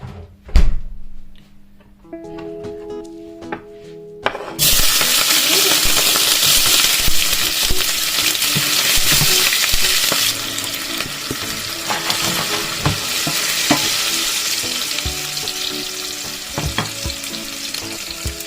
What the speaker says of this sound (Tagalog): Gisa na natin mga ka-Berks